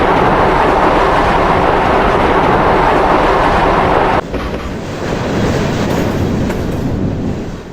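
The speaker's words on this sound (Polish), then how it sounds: "Co to za pociąg?" A train rolls past close by, a loud sustained rumble and roar with faint clickety-clack from the wheels, easing slightly midway and carrying on steadily to the end.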